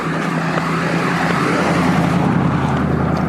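A car passes by with a steady, loud engine drone and a clear low hum that swells slightly as it goes, with no one talking.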